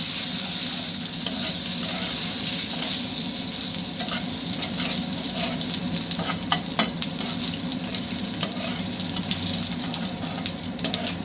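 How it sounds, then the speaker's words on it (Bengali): Steady, loud sizzling of spices frying in hot oil, with occasional crackles and stirring scrapes throughout; no voices. "ফোড়নটা আমার ভাজা ভাজা হয়ে এসছে।"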